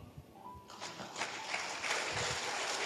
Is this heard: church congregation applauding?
yes